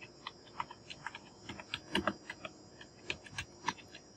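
Keys on a computer keyboard are tapped to enter words into a search bar: quiet, irregular clicks in short clusters, with no voice over them.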